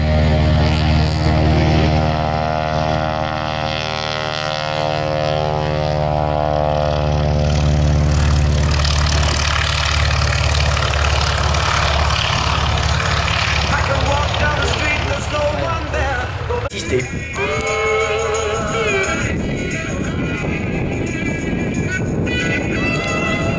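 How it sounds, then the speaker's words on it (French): A Broussard propeller aircraft taking off at an air show, its steady engine and airscrew drone holding loud and near throughout, shifting in tone as it climbs away, with a brief change partway through. "Alors le Broussard vient de décoller, il va prendre son envol et il va monter jusqu'à une altitude"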